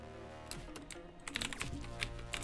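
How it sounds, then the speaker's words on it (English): Keys clatter on a computer keyboard during an Arsenal match, a run of quiet clicks with a few sharper taps toward the end, close by and with no talk. "Here, hit backspace."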